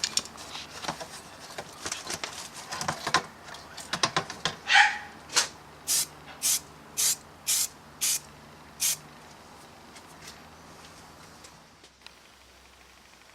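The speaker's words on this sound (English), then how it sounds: "To finish it, I'm using U-Pol satin black." Satin black spray paint goes onto a 2011 Harley-Davidson FXDC voltage regulator as a series of close, sharp hissing bursts in a steady rhythm, followed by quiet.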